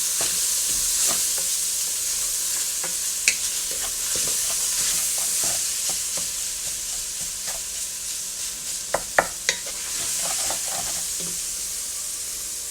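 Black-eyed pea and sausage chili being stirred in a pot, a low steady simmering hiss with scattered spoon taps and a few sharper knocks against the pot, close by and without speech.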